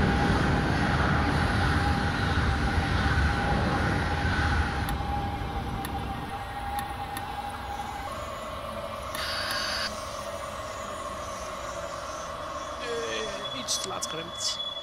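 An NS DDZ intercity passenger train in Train Simulator 2022 rumbles steadily with a low droning engine tone and a faint whine, gradually easing off, with no talking over it.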